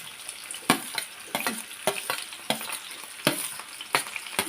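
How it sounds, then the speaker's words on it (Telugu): Sliced onions with salt fry and sizzle in a pan, with a string of sharp, irregular scraping clatters as they are stirred over a constant crackling hiss, close and alone. "ఉల్లిపాయలు వేసుకుందాం ఉల్లిపాయలు వేసుకొని కొంచెం ఉప్పు వేసుకొని"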